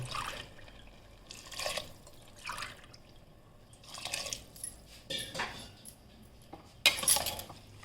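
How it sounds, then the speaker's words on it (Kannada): Water is poured from a glass into a pressure cooker of vegetables in a home kitchen, in several separate splashing bursts with brief pauses and occasional clinks of metal between them. "ಈ ಗ್ಲಾಸಲ್ಲಿ ನೀವು ತೊಗೊಂಡಿದ್ದ ಗ್ಲಾಸಲ್ಲೇ ನಾನು ನಾಲ್ಕು ಗ್ಲಾಸು ನೀರು ಹಾಕ್ತಾಯಿದ್ದೀನಿ"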